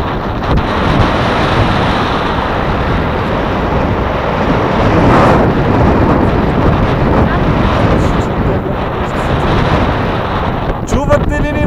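Strong outdoor wind buffets the microphone continuously on an exposed mountain viewpoint near Rila, a loud, rough roar that swells and gusts, with a voice faintly heard under it.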